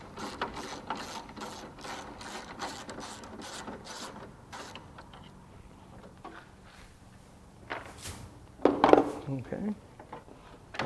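A hand ratchet loosens a headlight bolt on a 1994 Chevrolet Suburban, its quick clicking strokes repeating close up through the first half, then a few louder clunks near the end.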